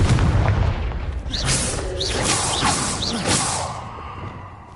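Confringo fire spell blasts in the Hogwarts Legacy video game: a loud booming burst followed by a run of whooshing, rising magical swishes and crackles that fade out over several seconds, with no talk.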